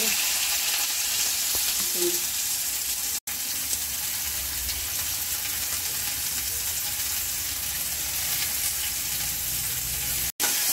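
Steady, loud sizzling of soaked, finely chopped soy chunks frying in a hot wok, continuous throughout with two brief dropouts.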